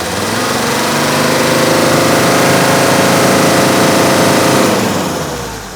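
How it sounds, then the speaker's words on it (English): A long-dormant engine, just purged and no longer nailing its injectors, runs steadily just above idle, a smooth continuous loud drone with even firing and no voices over it. "watch as I bring it off idle, just how smooth that runs"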